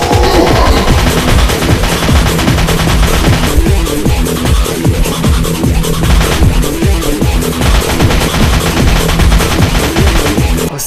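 A sawed-off shotgun fires in a video game. The loud, dense blasts come fast, one after another, with no break for the whole stretch.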